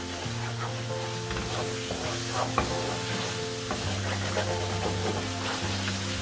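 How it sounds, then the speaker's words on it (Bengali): Chicken roast masala being stir-fried in a little oil, a steady close sizzle with scraping stirs throughout, over a continuous low background hum. "দেখতে পাচ্ছেন মশলাটা কষাচ্ছি, রোস্টের মশলা, তেল নাই, অল্প তেল"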